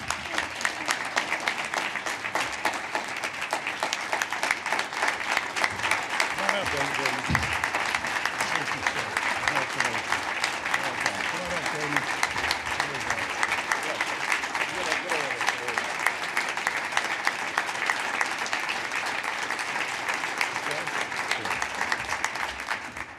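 Sustained warm applause from an audience greeting Congressman Don Young of Alaska at a public broadcasting award presentation, steady dense clapping filling the room without a break for over twenty seconds.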